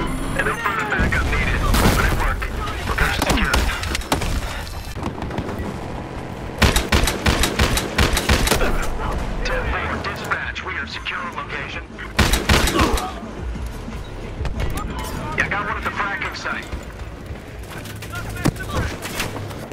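Bald Eagle rifle from Battlefield Hardline firing in rapid, loud bursts of gunfire, with other shots, explosions and voices mixed into a busy game battle.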